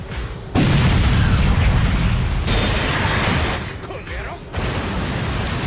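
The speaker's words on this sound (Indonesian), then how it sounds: "kapal mereka mengalami kerusakan bahkan hancur karena ledakan misterius dari bawah laut" A sudden deep boom from beneath the sea wrecks a boat in an anime scene, followed by a sustained rumbling roar with further bursts and crackling debris, loud and close.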